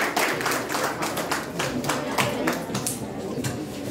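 An audience at an award ceremony claps together in a crowded hall, a brisk, continuous rattle of hands with a voice speaking over it.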